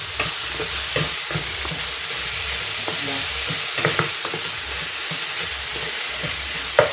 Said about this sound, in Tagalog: Gigisa ko na dito itong kamatis.